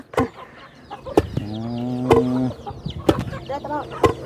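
Chickens and ducks on a farm cluck, squawk and call close by, loud overlapping bird calls with sharp clucks and a longer drawn-out call in the middle.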